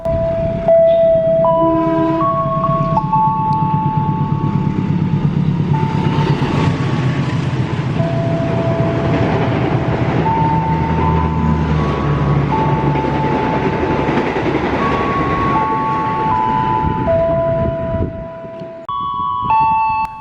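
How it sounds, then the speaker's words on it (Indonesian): The Dharmawangsa 165 passenger train, with a dining car combined with a generator, rolls past loudly and close, its steady wheel rumble and rail noise joined by long, shifting horn tones. "untuk kereta api Dharma Wangsa 165 pada hari ini tetap memakai kereta makan yang digabung dengan pembangkit"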